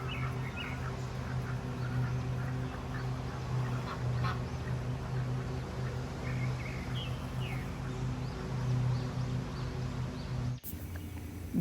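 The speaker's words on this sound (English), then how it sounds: "Hello, ducks." Ducks in a farmyard animal pen during a morning feeding routine, a low steady chorus of quacks and honking calls from a group of fowl, moderately close and continuous, with no speech.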